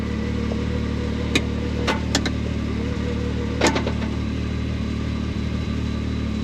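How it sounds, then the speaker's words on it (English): An ATV idling in park, its drive belt and secondary clutch still spinning with a steady low whir and hum, close by, broken by a few faint clicks and ticks. "That is the belt, that is the secondary that's still spinning."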